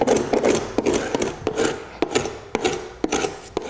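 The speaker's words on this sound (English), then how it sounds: "I'm going to sand this all" A damaged wooden interior window sill is sanded by hand, with rhythmic rasping strokes about twice a second, close and fairly loud, with no voices.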